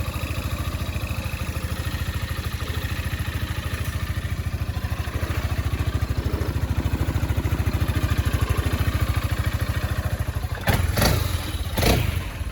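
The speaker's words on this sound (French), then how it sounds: "C'est un scooter 3 roues, un 500 cm3." A broken-down 500 cc three-wheeled scooter engine idles steadily with a rapid, even putter, then a couple of sharp clanks near the end.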